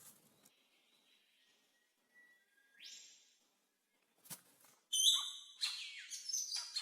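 An Australian forest bowerbird calls in a series of varied chirps, whistles and harsh notes, sparse at first then denser and louder toward the end, heard alone without talk.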